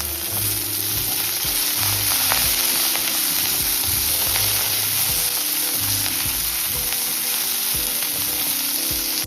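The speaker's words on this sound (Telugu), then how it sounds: "దంచి పెట్టుకున్న చారు మసాలా కొద్దిగా వేగనివ్వాలి." Ground rasam masala sizzles and fries steadily in a pan with curry leaves and coriander, a continuous close crackling hiss with faint stirring and no talk.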